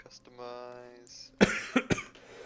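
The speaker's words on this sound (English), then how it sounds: "No, I cough." A person coughs a few times, short sharp bursts close by, after a brief stretch of sustained humming or voiced sound.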